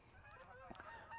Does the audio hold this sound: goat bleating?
no